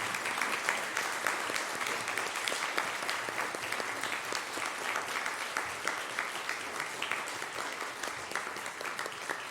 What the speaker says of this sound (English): Please join us in applauding these teachers and these upstanding helpers